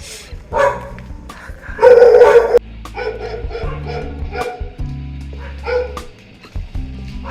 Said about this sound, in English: then the dogs start flipping out